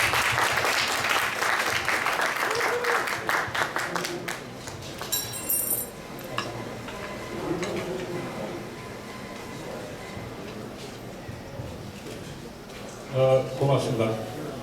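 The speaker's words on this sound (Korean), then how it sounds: "힘찬 박수 부탁드립니다." A lecture audience applauds at a campus creativity center founding ceremony, loud dense clapping over the first few seconds that thins and fades, followed by quiet room sounds and a brief burst of speech near the end.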